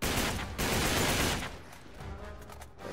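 Sawed-off shotgun fire in the video game Uncharted 3: a dense, loud burst of blasts and gunfire chaos that fades after about a second and a half into quieter game ambience.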